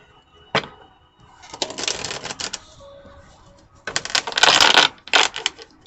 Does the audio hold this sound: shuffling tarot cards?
yes